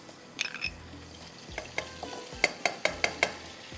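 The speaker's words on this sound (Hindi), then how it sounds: "इसके अंदर जाएगा बटर, ये मेरे पास है मक्खन।" Butter sizzles softly in about a tablespoon of olive cooking oil in a pan, a faint steady frying hiss broken by a few light clicks from a utensil near the end.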